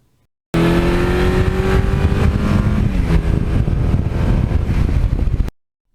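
A 1982 Suzuki GS1100E motorcycle engine revs loudly and close by, a steady raspy roar that rises slightly in pitch and then cuts off abruptly after about five seconds.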